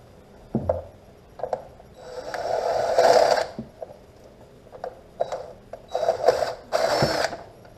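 A handheld power driver backs out the screws holding the head of a Minn Kota trolling motor, whirring in several short bursts of varying length, close and fairly loud, with brief pauses and small clicks between runs.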